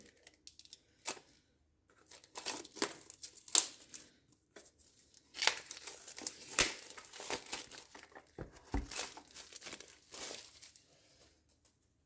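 Packaged box being opened at close range, with irregular bursts of crinkling and rustling wrapping, sharp crackles and short tearing scrapes separated by brief pauses, no talking.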